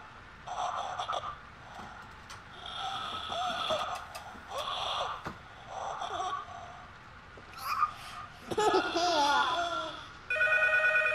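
A telephone bell rings in trills in the horror game P.T., amid busy game-like effects and voices, with a sharper electronic ring bursting in near the end.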